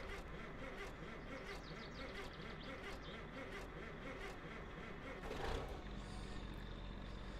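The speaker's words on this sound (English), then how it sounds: "that's what it sounds like in the truck if you start it without letting the glow plugs warm up" Rough, labored diesel truck engine started without warming the glow plugs in My Summer Car, a steady rumbling drone throughout with a brief louder surge near the end.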